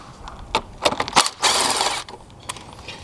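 A ratchet loosens a 10mm fastener on a Scion Toyota, giving several quick, close clicks followed by a longer burst of rapid ratcheting and a few final clicks.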